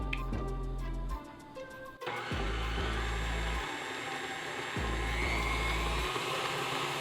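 A stand mixer whirs steadily on medium-low while molasses cookie dough is mixed, a continuous motor drone with a few brief dips and surges in pitch and load.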